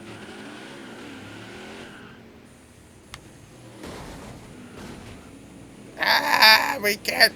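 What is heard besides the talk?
NASCAR truck spinning in the turn, NASCAR Heat 5 video game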